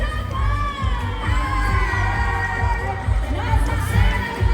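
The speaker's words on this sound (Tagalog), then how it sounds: "Palakpakan para kay Fiber Cats Chete!" A lively crowd cheers and shouts for the Fiber Cats performers at an outdoor variety event in Quirino, a dense continuous roar of voices with children's shrieks over a thumping bass beat.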